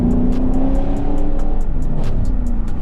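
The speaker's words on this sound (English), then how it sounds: "like those pops in second gear is crazy" Camaro SS 1LE accelerating hard in second gear, a loud close engine roar broken by a fast, regular series of sharp exhaust pops.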